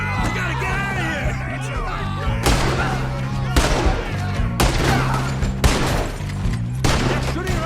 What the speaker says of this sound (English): They're shooting right at you!